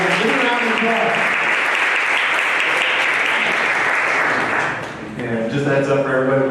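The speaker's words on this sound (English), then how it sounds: "give a round of applause" Live audience at the Flight Lounge applauding a guest, a loud dense burst of clapping that thins briefly near the end as voices and music come through underneath.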